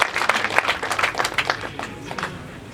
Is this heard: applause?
yes